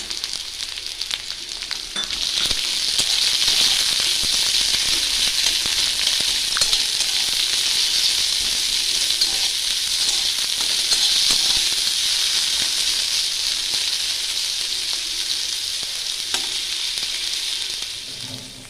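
Chopped onion hits hot oil in a pan for a small mourola fish curry. A loud, steady hiss and sizzle rises after about two seconds and holds evenly to the end, close by, with no talk.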